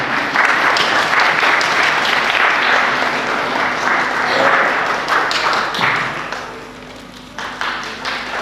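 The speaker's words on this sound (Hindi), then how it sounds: "हम चाहता हूँ कहीं से ताली बजा करके उनका स्वागत करें" A church audience at a Christmas candlelight celebration claps to welcome a guest, dense sustained applause running loud for several seconds before thinning out toward the end.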